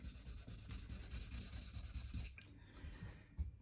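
Steady rasping friction of sanding a Squier guitar's wood, continuous and fairly close for a couple of seconds, then easing off into quieter scrapes with a brief knock near the end.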